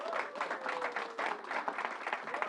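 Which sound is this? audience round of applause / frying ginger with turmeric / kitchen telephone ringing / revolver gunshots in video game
audience round of applause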